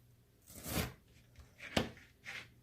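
A knife cuts through a pan of fruity Rice Krispies treats, giving a few faint, brief crunchy scrapes spaced apart against a quiet kitchen background.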